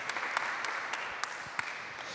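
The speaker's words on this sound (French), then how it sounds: "On vous applaudit, Monsieur Fougeray." Audience applause fills a parish hall at a talent show, a steady wash of clapping with a few sharper individual claps standing out, moderately distant and at even strength throughout.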